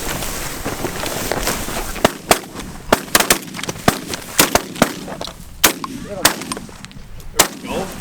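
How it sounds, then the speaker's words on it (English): Shotguns fire a rapid volley at geese during a North Dakota hunt, a dozen or more sharp, loud blasts in an irregular burst over wind noise outdoors. "Decent shooting."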